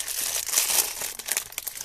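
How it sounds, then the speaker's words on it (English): Plastic packaging from a Lego Nexo Knights set crinkles close up in a continuous, scratchy rustle that swells and fades over a couple of seconds. "Sorry, we'll just get the crinkling out of the way."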